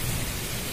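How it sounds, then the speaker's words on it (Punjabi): Heavy rain pours down amid street flooding, a short burst of dense, steady hiss with no voices. "ਤੁਸੀਂ ਦੇਖ ਸਕਦੇ ਹੋ ਕਿੰਨਾ ਮੀਂਹ ਪੈ ਰਿਹਾ"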